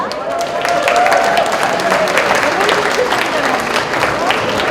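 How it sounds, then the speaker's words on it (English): Audience applause fills a community council event, a dense, loud, sustained round of clapping close by that carries on steadily throughout. "So let's go ahead and give a round of applause for Mr. Longtran."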